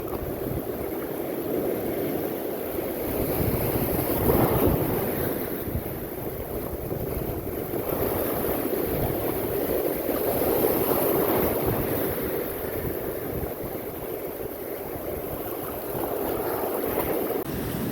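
Strong sea waves churn and surge in broad, continuous swells during the amihan northeast monsoon, mixed with gusty wind buffeting the microphone; no voices.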